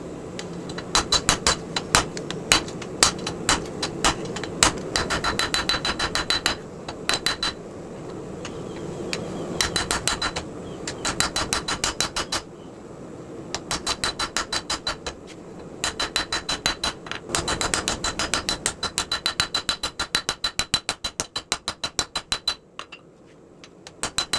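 Hand forging steel for a knife blank: a hammer rings out in rapid rhythmic bursts of sharp metallic strikes, pausing between sets, close and bright.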